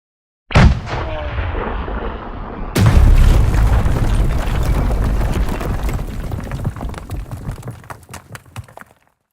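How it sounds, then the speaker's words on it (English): A bomb explosion effect: a sharp blast opens, then a second heavier boom rolls into a long, loud rumbling decay that fades out over several seconds, with no talk over it. "Let's drop them bombs on them right now."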